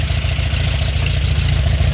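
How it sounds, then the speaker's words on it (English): Engine of a 1969 Volkswagen convertible running steadily with a non-original exhaust, a loud, close, throbbing low rumble with even pulses and no voices. "It doesn't whistle like the old Volkswagens do with the original exhaust kits, but I think it sounds great."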